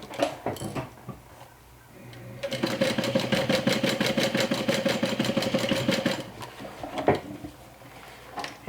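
A sewing machine stitches a fabric water-bottle sling in a fast, even rapid-fire run of needle strokes for about four seconds, framed by a few handling clicks and rustles before and after.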